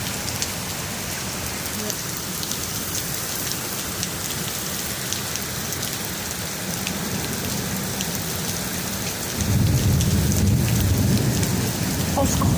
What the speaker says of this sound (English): You can see the hail hitting the ground very hard so it breaks.